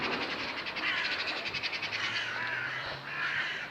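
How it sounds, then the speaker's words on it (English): Crows cawing in a squabble with magpies outdoors, repeated harsh calls at moderate distance over steady background noise, no talking. "There's a fight going on between crows and magpies."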